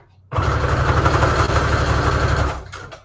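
A sewing machine stitching through a junk journal paper collage runs in one steady, close, loud burst of rapid needle chatter for about two seconds, then stops abruptly.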